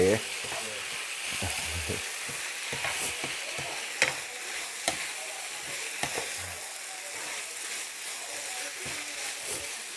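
Eel stir-fries in a hot pan, crackling sizzle broken by repeated scraping and clattering stirs, with a voice speaking at moments over the cooking.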